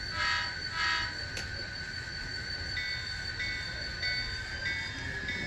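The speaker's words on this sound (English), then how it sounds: "two honks of the horn." An Athearn Genesis GP50 model locomotive on a layout sounds its horn, a sustained high electronic honk that breaks briefly and resumes, close and moderately loud with no talk.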